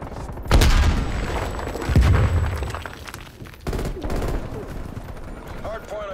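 A frag grenade blast in the video game Call of Duty: Black Ops Cold War: a loud boom among bursts of gunfire and smaller booms, with voices talking over the action.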